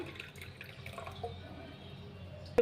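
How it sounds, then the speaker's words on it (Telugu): Hot water pours steadily into a glass, a soft continuous trickle with a faint splashing texture, close by and fairly quiet. "మిగతా రిమైనింగ్ హాఫ్ గ్లాస్ వరకు మనము హాట్ వాటర్ని యాడ్ చేసేద్దాం"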